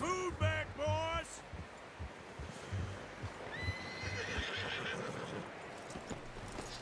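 A horse whinnies loudly near the start in the video game Red Dead Redemption 2, followed by soft hoof clip-clops and a quieter rising neigh later over a low background.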